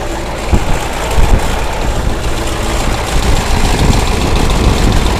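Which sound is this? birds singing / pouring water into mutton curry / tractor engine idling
tractor engine idling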